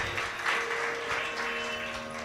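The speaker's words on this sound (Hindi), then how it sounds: "फर्स्ट टाइम तालियां बजाइए।" An audience claps at a Jain religious gathering, a steady, moderately loud patter with a faint tonal hum underneath.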